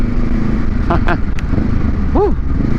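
Honda Rebel motorcycle cruising on Skyway Stage 3 on a Saturday group charity ride, a steady engine drone with wind rush throughout and a few rising and falling whine sweeps, people talking over it.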